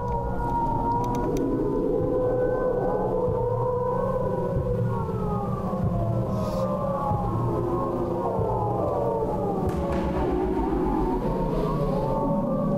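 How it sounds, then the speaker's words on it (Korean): A North Korean propaganda loudspeaker broadcast carries across the border about 2 km away, heard as a continuous loud wailing blend of siren-like sliding tones and mixed sounds, distant yet dominant, with no speech nearby. "지금 북한에서 하고 있는 대남 방송 소리가 아주 잘 들립니다"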